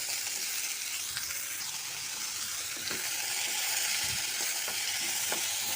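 Ingredients for a chutney fry in a little oil, giving a steady dense sizzle with occasional scraping stir sounds, close and continuous without talk.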